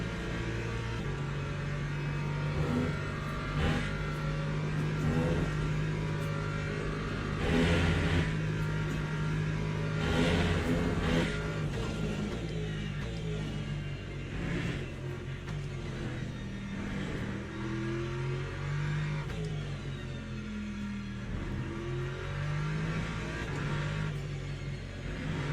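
A Lexus race car engine in a racing video game, droning steadily from inside the car with repeated revving swells and gear changes throughout a long run.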